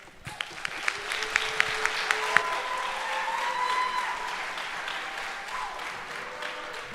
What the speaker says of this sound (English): Let's just give them like a really big round of applause